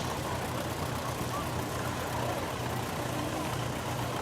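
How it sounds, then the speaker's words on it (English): A 1938 Allis-Chalmers WC vintage tractor engine runs with a steady, continuous low rumble at an outdoor farm picnic, holding an even loudness throughout with no distinct changes. "We now have a 1938 W.C. Alice Chalmers tractor."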